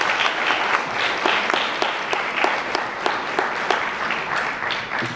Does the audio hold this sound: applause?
yes